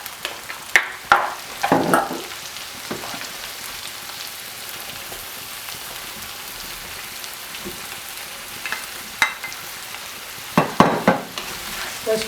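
Onion, garlic, cabbage and tomatoes fry in a pan for lasagna, with a steady crackling sizzle underneath and bursts of loud scraping and clattering as a utensil stirs, clustered at the start and end.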